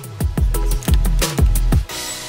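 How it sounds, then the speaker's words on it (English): A Simplicity Satin 197 sewing machine running a zigzag stitch: several close, loud bursts of rhythmic needle whirring and clatter, pausing briefly between runs and stopping near the end, without any talking. "I'm now trying the zigzag stitch."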